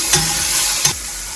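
Chopped garlic sizzles steadily in melted butter for a cordon bleu cream sauce, a bright continuous hiss close by, broken by two brief clacks of a utensil against the pan.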